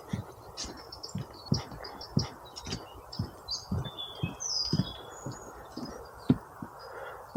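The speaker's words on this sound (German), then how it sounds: "Man hört die Vögel." Birds chirp and sing in the woods along a wet forest hiking trail, with scattered high calls over regular crunching footsteps close by.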